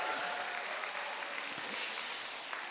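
Steady applause from a church crowd, a dense even clatter of clapping that carries through the whole moment without a break.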